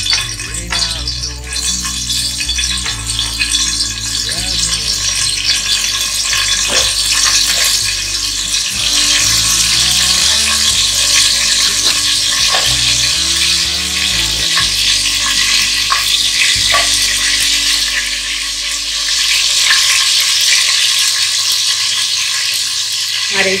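Whole spices such as fennel go into hot oil in a wok for tehari, frying with a loud, continuous crackling sizzle and repeated scraping and rattling of a stirring spoon, no talk.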